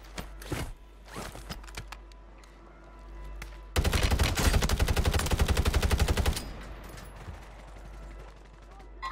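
Rapid automatic gunfire in Warzone 3, a dense burst of shots lasting a few seconds midway through, preceded and followed by scattered quieter single shots and in-game ambience.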